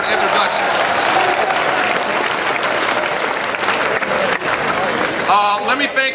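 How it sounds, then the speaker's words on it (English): A crowd applauds Mayor Johnson's introduction at a solar celebration, with steady, dense clapping for several seconds before it thins and a voice begins near the end. "Applause for the introduction."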